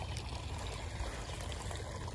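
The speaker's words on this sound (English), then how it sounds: "Got some flowing water right here" Water flowing steadily at the bank of a spring bass-fishing pond, a continuous close rushing trickle with no breaks and no talk.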